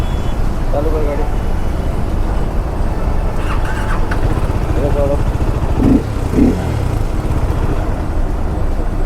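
A motorcycle engine running after being started, a steady close idle drone under loud roadside noise, with people talking over it and brief squeals.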